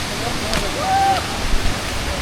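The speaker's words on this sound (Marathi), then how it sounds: "कारण पाण्याचा आवाज वाढू लागलाय." Steady broadband rush of a waterfall in the Konkan countryside, heard while approaching on foot through the trees, loud and continuous with a faint whistle-like tone passing over it.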